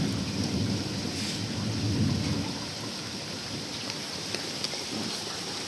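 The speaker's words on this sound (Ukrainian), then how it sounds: "Як це файно слухати, як дощ летає." Steady rain pours down in a continuous hiss, with a low rumble of thunder early on that fades, leaving the rain alone.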